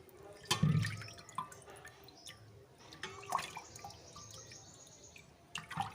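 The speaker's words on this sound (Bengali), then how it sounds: "আমি রোজ এভাবেই মাছগুলোকে ধুই" Fish are washed under running water, with scattered splashes, drips and trickles, one louder splash early on, a faint steady flow beneath, and no voices.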